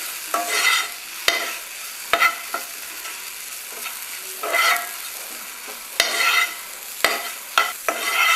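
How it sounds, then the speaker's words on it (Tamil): Grated coconut and white sesame seeds sauté in a pan for a horse gram chutney, a steady soft sizzle broken by sharp spatula scrapes and clacks against the pan, close and alone with no talking. "தேங்காயும் போட்டு நல்லா வதக்கிடணும்"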